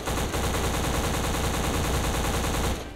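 Continuous rapid machine-gun fire at a shooting range in the game Black, a fast, steady stream of loud, close shots that ends abruptly.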